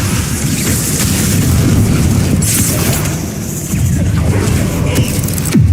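The Bombardment spell goes off in Hogwarts Legacy, a loud, sustained rumbling blast with a dense low-end roar and crackling debris that stays heavy across the whole stretch.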